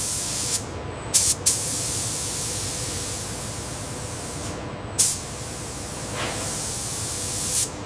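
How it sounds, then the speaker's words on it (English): Robotic arms spray military-grade camouflage paint inside a sealed paint chamber during Mi-24 Hind helicopter manufacturing, a steady loud hiss of atomised spray with brief sharper bursts and pops recurring throughout. "Robotic arms apply the specialized military-grade camouflage."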